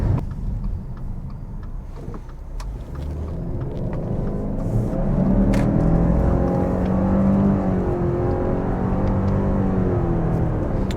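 A 2022 Subaru Ascent engine hums and rises while driving, with a steady rumble that swells in pitch and drops back as the transmission mimics gear changes, plus faint ticks and cabin noise.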